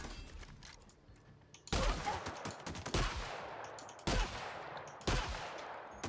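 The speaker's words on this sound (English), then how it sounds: "Is this a shotgun?" Shotgun blasts in the video game The Outer Worlds, several loud booming shots at uneven intervals, each trailing into a long decaying echo, with game ambience between the shots and no voices.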